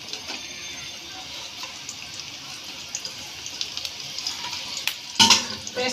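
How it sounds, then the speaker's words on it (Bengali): Chopped onions fry in a little oil in a pan with a faint, steady sizzle, broken by a few light clinks and a brief sharp clatter near the end. "পেঁয়াজটাকে আপনার কিছুটা বাদামি কালার নরম হওয়া পর্যন্ত ভেজে নিচ্ছি"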